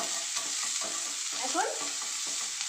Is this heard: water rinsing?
no